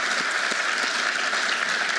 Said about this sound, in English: I'd like to give all the Lions Choice Awards winners a round of applause